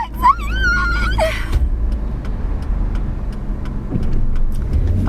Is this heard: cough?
no